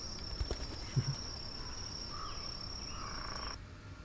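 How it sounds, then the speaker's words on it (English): Cricket chirping ambience, a continuous thin high trill holding steady for several seconds at moderate loudness, with a few soft knocks early on, no talking. "Now I made the crickets too loud, Jeremy."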